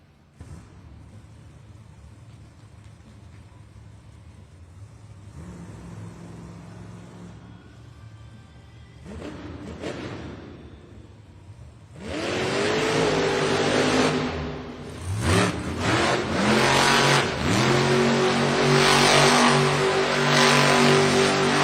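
The Jurassic Attack monster truck engine revs hard in a dirt arena at a Monster Jam event in Moline, Illinois, rising from a rumbling idle into loud, sustained roaring surges with wavering pitch, heard amid crowd and arena noise.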